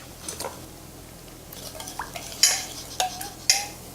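Steak being marinated in a homemade cilantro dressing for a Thai steak salad: soft wet stirring and handling, broken by a few sharp clinks of utensils against a dish, close and fairly quiet.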